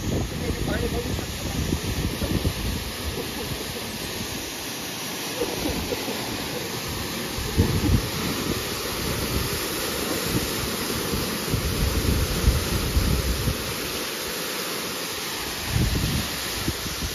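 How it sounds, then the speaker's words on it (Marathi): A 3 HP CRI solar water pump on a farm gushes water in a loud, continuous roaring rush, with wind buffeting the microphone over it. "आपण इथे पाणी चालू केलेलं आहे, पाणी बघू शकता।"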